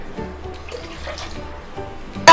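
Water poured into a cooking pot for egg biryani rice, a soft, steady splashing trickle that runs continuously at moderate volume, with a brief sharp clatter at the very end and no talking.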